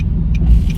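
A car idles in heavy traffic with a close, steady low engine rumble that swells slightly, and faint higher rattles float over it.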